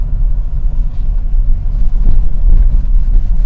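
A 2017 Toyota Altis 1.6 E automatic running on factory CNG drives over a pothole-ridden road, giving a continuous loud low rumble of road and suspension noise with thumps from the bumps and no talking.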